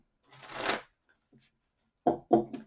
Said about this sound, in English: I'm just going to shuffle three more times